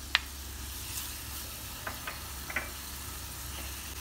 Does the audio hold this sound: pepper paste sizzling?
yes